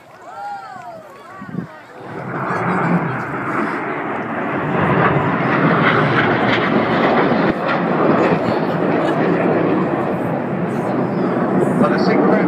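Red Arrows jet aircraft flying synchronized turns at an air display, a roaring jet noise swelling in and holding loud and broad, with a commentator's voice audible early on.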